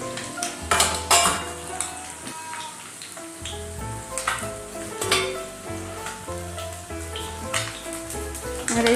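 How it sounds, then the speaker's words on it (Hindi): Small fried pona fish are lifted one by one from a sizzling pan onto a plate, with steady frying crackle and repeated close clinks of a spatula against the pan. "अब हम इसको एक प्लेट में निकाल लेंगे एक एक करके।"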